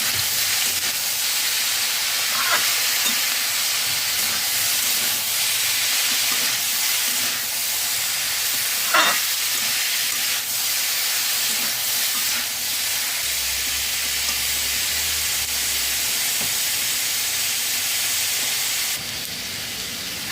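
Mushroom, potato and broccoli lightly frying in a pan, a continuous loud hiss and sizzle lasting about twenty seconds with occasional small crackles and pops.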